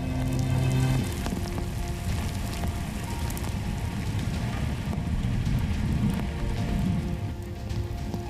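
Steady rain falls hard and close, a dense continuous patter on surfaces throughout, with a faint hum underneath and no talking.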